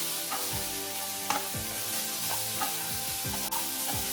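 Kadai masala is stirred into onion, capsicum and paneer frying in a kadai, giving a steady close sizzle with repeated scraping strokes of a spoon against the metal pan, and no talking.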